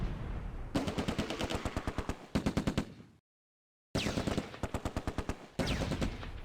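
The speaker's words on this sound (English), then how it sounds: "The Vickers opens up on a Fallschirmjäger Panzerschreck in the mill. The rifle section joins in, then the Bren" Rapid machine gun bursts and rifle shots in the World War II strategy game Close Combat: A Bridge Too Far, with Vickers and Bren guns firing near and loud in rhythmic strings, a brief silent gap, then more sustained bursts.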